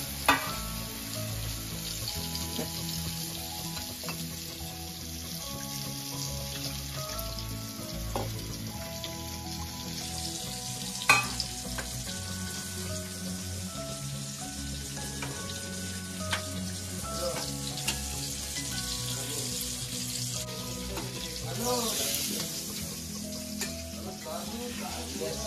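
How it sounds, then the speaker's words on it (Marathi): Fish sizzles steadily in a pan for a Koli-style fry, a continuous soft crackle and hiss with occasional pops and faint background voices and household noise. "एका साईडला फ्राय तयार होत आहे"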